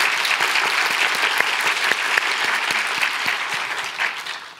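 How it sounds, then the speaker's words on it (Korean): An audience at a church retreat for new university students claps together in sustained, dense applause that holds steady for several seconds before starting to taper off. "우리 다시 한번 박수 해드릴까요?"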